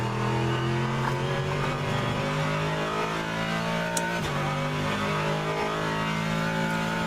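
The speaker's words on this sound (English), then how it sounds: "this engine is so loud. This Corvette is so loud" A Corvette race car in the rFactor 2 sim roars continuously and loudly, a steady droning engine note with slight rises in pitch, no talk over it.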